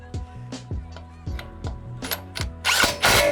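An impact wrench on its number 2 setting runs lug nuts onto a 2015 Toyota Tacoma TRD during a tire and spacer install: short sharp rattling bursts in a quick series, ending in a louder sustained hammering.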